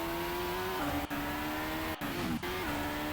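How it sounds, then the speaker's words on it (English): A video game F1 race car engine braking and downshifting, high whining tone stepping down through gears with sharp dips at each shift, loud and close, no talk. "That engine actually sounded really nice there, braking. Shifting down the gears."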